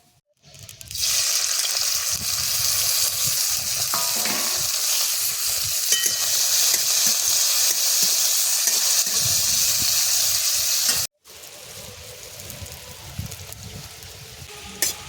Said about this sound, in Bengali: চিংড়ি মাছগুলো এবার ভেজে নিচ্ছি।